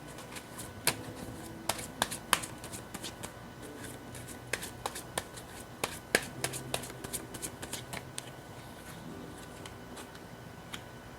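Tarot cards shuffled and drawn by hand, a busy run of crisp riffles, flicks and sharp snaps over about eleven seconds, close and fairly quiet.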